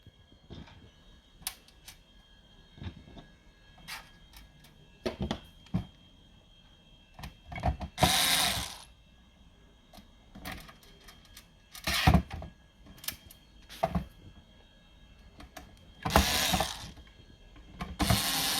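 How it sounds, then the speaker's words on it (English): Screws being tightened on a Hikvision 4-channel PoC DVR casing, a series of short close ratcheting clicks and scrapes in scattered bursts with brief louder rasps, no talk. "once screws are properly fit, then we can tighten them."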